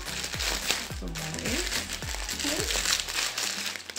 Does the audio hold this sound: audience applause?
no